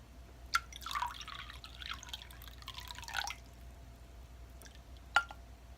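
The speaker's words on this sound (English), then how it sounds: "let me just put the rose water in the vinegar" Rose water poured into vinegar, heard as soft close drips and gentle liquid trickles in a quiet room, with a couple of sharper drops standing out.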